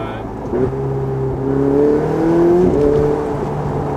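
A Ferrari 488 Spider engine drones from inside the cabin while driving, its tone climbing as the car accelerates, with some low talk from the occupants.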